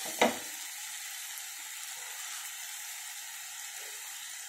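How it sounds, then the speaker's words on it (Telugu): Brinjal and green peas frying in a pan with salt added, giving a steady, close sizzle that runs throughout after a brief sharp clatter at the start. "ఇవి ఫ్రై అవుతున్నాయి కదా, కొంచెం సాల్ట్ వేసుకున్నాము."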